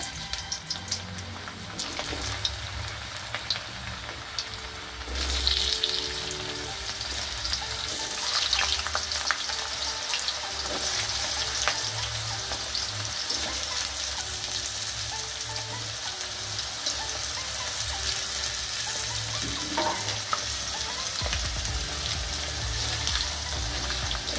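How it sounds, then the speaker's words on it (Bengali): Potatoes fry in a pan for paneer butter masala, giving a loud, dense, continuous sizzle that roars up after a quieter start and keeps an even, crackling hiss throughout with no talking. "এবার আমি আলুগুলো ভেজে নেব।"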